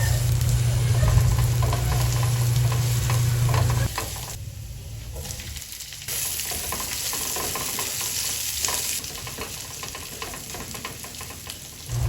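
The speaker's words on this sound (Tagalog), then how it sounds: "set aside para magisa naman tayo ng bawang," Garlic and onion sautéing in a pan while cooking chicken adobo, a continuous close sizzle with occasional stirring, a low hum under the first few seconds and no clear speech.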